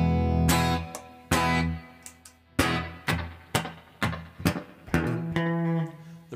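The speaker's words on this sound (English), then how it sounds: "The reverb is really high on the amp. I should have backed it off a bit there. It's like I'm playing guitar in a cave." An electric guitar plays through an amp with the reverb set very high: a run of loud struck chords and single notes, each with a long washy tail that rings into the next.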